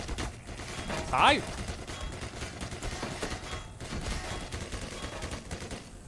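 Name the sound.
gunfire in the video game Black Mesa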